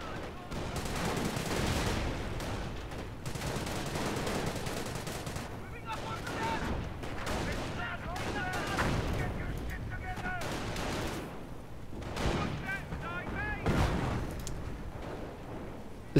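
A commando mortar fires repeatedly in a video game battle on a city outskirts map, bursts of gunfire and booming impacts recurring over continuous battlefield noise.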